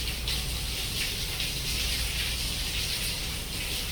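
Hot tap water running steadily for rinsing and washing, a continuous close gushing splash with no voices.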